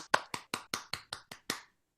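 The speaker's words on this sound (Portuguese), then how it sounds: "Vamos fazer a nossa salva de palmas, Dirceu?" Applause during an online class: eight sharp, evenly spaced hand claps from a single nearby clapper, then silence.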